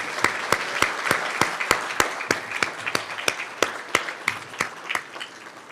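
Audience at a university department awards banquet applauds award winners, with sharp, distinct claps in a steady, fairly even rhythm across about six seconds, close and moderately loud, with no talking.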